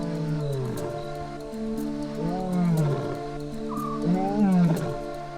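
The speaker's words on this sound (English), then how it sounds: "and then you hear the lion roar." A lion roars several times on a pitch-dark road, deep low groaning bursts swelling and fading in a loud rhythmic series, with no talk over them.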